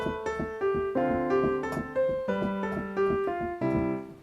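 Piano chords struck in a steady, even quarter-note pulse, each chord ringing briefly before the next, with a plain march-like feel and no voices.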